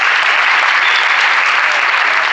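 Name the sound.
audience applause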